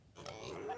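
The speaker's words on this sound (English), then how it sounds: "a pig," A short, soft pig oink plays as a read-aloud sound effect, a single brief grunting snort heard faintly and alone.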